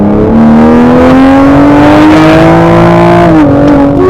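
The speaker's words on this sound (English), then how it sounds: "I'm going to downshift a second." A tuned 2020 Toyota Supra downshifts and pulls hard, its engine note climbing steadily and loudly from inside the cabin, with a brief dip near the end as another gear engages.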